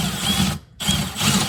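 A drill bit bores into a rivet on a bass boat hatch, two loud close bursts of steady whirring split by a short pause, with no talking.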